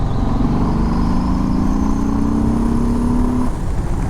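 A 2019 Harley-Davidson Sport Glide 107 motorcycle pulling in third gear from about 2,500 rpm, a loud close engine drone with rising pitch that climbs steadily for a few seconds before easing off, no talking.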